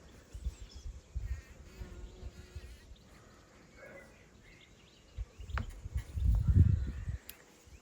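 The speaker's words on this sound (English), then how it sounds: "the bees are loving them" Bees buzz softly around poppies in a garden at first, then a louder, closer burst of buzzing swells near the end, with faint outdoor background throughout.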